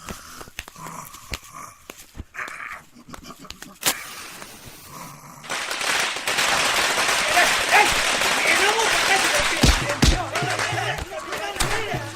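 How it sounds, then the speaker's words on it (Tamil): Firecrackers burst into a dense, rapid crackling string that runs for several seconds, loud and close, after a quieter stretch of voices and scattered noises. "நீனும் தாயா வாயா போய் பட்டாசை வைக்கலாம்"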